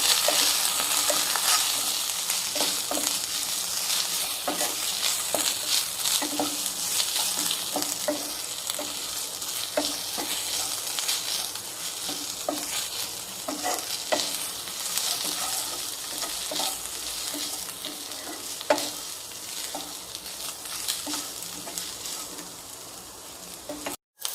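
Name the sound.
frying ginger garlic paste in a pan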